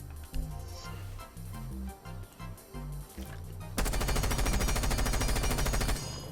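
Jackal's gun in Rainbow Six Siege fires in short bursts over a backing beat, then breaks into a long, loud sustained automatic volley that runs to the end.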